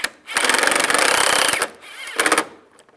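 A power screwdriver drives screws into the radiator fan shroud of a 1999-2005 Volkswagen Jetta, two close, loud buzzing bursts, the first longer, separated by a short pause.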